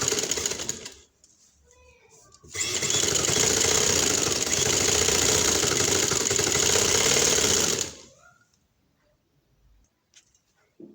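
A sewing machine stitches a shalwar in one steady, loud, continuous run of about five seconds, with quieter moments before and after.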